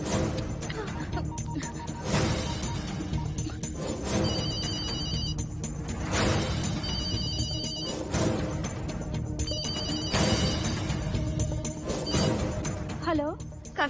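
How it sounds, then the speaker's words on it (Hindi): A telephone rings repeatedly in bursts over loud background music and voices, the ring pattern recurring every couple of seconds. "Phone, phone."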